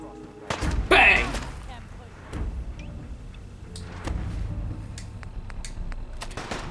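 Shotgun blasts in the video game Fallout 4, a loud sharp report early on followed by scattered thumps and shots amid game ambience, with a voice shouting in between.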